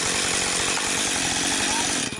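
A chainsaw used for cutting firewood runs close and loud, with a steady, rough buzzing engine note and a rapid pulsing rhythm that holds for the whole stretch.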